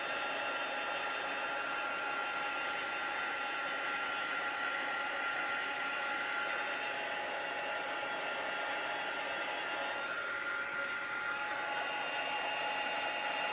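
A heat embossing tool blows a steady, loud whooshing hiss of hot air close by as it melts embossing powder, uninterrupted for the whole span.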